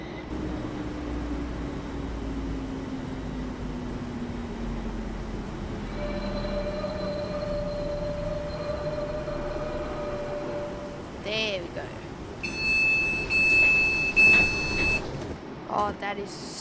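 A Class 350 electric multiple unit in Train Simulator 2015, running on the West Coast Main Line, brakes to a stop with a steady rumble and a slowly falling tone, then metallic squeals and electronic beeps near the end.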